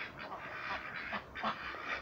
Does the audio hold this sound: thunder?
no